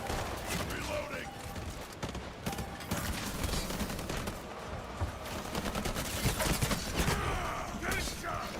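Bursts of gunfire rattle in a video game as the player gets shot, rapid overlapping shots and thuds filling the scene continuously, with a voice speaking over the fusillade.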